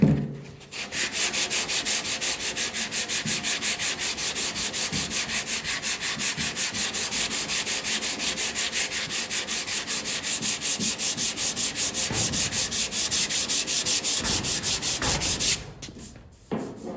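Steady, loud sanding of body filler on a car panel, a continuous rhythmic scraping with even back-and-forth strokes that runs for most of the stretch and briefly stops near the end.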